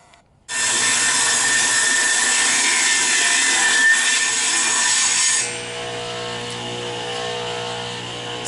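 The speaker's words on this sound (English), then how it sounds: "we're running the boards through the table saw because these are rough sawn boards" A table saw rips rough sawn boards with a loud, steady whine that starts abruptly after a brief quiet lead-in and keeps cutting for several seconds, then drops to a lower, lighter run as the cut finishes.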